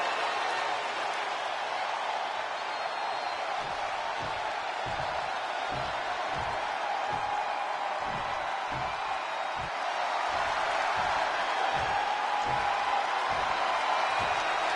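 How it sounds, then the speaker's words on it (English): Arena crowd noise at a WWE 2K26 SmackDown wrestling show, a steady loud roar of cheering with faint rhythmic thumps underneath, continuous throughout. "The crowd on their feet."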